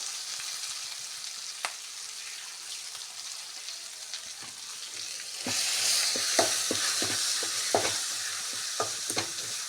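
Chilli frying in hot oil in a pan for jackfruit palya, a quiet hiss that swells into louder crackling sizzle halfway through, with scattered pops and stirring scrapes.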